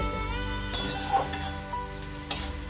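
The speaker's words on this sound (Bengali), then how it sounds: "মশলাগুলো দিয়ে শাকটা একটু ভালো করে নেড়ে চেড়ে নিয়ে" Kalmi greens (water spinach) stir-fried with spices in a pan, a low steady sizzle with two sharp spatula scrapes and a few softer stirring knocks, close by, no talking.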